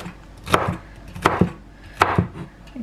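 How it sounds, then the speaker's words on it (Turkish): A knife chops roasted vegetables into pieces on a cutting board, three sharp separate thuds spaced about three-quarters of a second apart, each with a small follow-up tap, close and clear with no voices. "Bunu istediğiniz gibi doğrayabilirsiniz. Şöyle ben dörde böleceğim."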